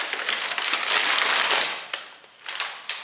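Plastic packaging for car suspension parts crinkles and crackles loudly up close, with bursts of crushing and rustling as it is torn open, no talking.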